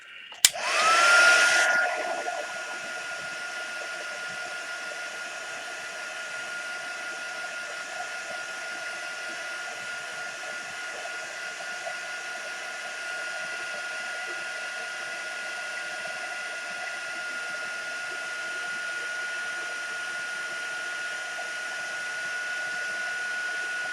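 Heat gun blowing steadily over a collage journal page, a close, continuous whooshing roar that starts with a brief louder burst and then holds level for the rest of the clip, with no talking.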